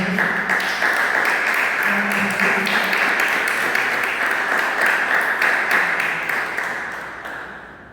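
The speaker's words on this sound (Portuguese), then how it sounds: "Vamos aplaudir a nosso Deus Todo-Poderoso." A church congregation applauds their God together, a dense, steady wash of many hands clapping close by that rolls on for several seconds before slowly thinning out, with a few voices mixed faintly into the noise.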